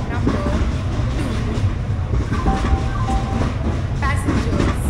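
A Gatiman Express train on the Agra to New Delhi route, with steady rail rumble and wheel clatter throughout and a public-address announcement audible over it.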